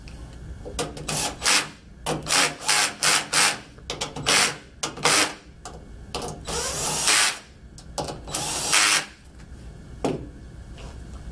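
A power driver runs in a series of short, rhythmic bursts while tightening PEM fasteners on a MistPac humidifier during transducer replacement, with loud close whirring pulses, a couple of longer runs, and no talk.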